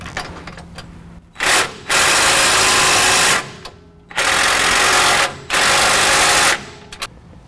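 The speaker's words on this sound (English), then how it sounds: "Now using a 9/16 socket and wrench, we're going to tighten up the silver bolts that are at the rear bracket." Power tool work on bolts at the rear bracket of a Go Industries Rancher grille guard on a 2017 Ford F-250 Super Duty, using a 9/16 socket: three loud, sustained bursts of whirring, close up, with short quiet gaps between them.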